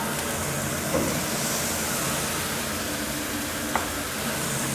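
Glass noodles and water mimosa stir-fried in a pan give off a steady, dense sizzle throughout, with a couple of faint clinks from a utensil against the pan.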